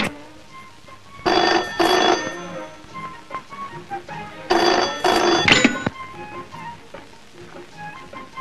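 A telephone rings in two loud bursts of repeated bell trills, a pause between them, with a quiet indoor room tone around it.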